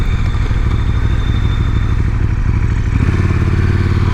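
A 2019 KTM 1290 Super Duke R motorcycle with stock exhaust idles close by with a steady, throaty low rumble and a slight mechanical clatter, with no voices.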